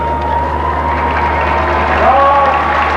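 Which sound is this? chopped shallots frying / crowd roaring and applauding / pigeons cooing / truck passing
crowd roaring and applauding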